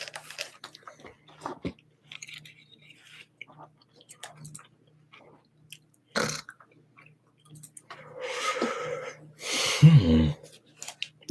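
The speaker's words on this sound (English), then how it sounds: "that chewing gum's loud" Gum chewed loudly near the microphone gives soft, irregular wet clicks and smacks, with a few louder mouth and breath sounds toward the end.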